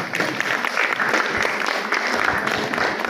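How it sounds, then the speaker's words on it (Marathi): Steady, dense applause fills a school hall at a retirement function honouring teachers, many hands clapping continuously with a faint crowd murmur. "सर्वांनी टाळ्या वाजवतो"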